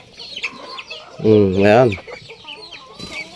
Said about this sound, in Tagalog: Ito na yung mga ating mga manok dito.